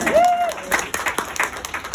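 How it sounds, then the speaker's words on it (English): Steady crowd applause from an audience at a Virginia political gathering, honoring the House Speaker, with a voice speaking over the clapping throughout. "round of applause"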